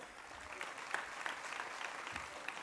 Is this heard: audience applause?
yes